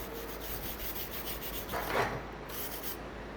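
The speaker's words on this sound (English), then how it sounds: "we can always come in behind our chipping hammer with our wire brush" A wire brush scrubs residue slag from a flux-core welded T-joint in steel, a steady close rasping rub with a brief louder burst of bristle scraping partway through.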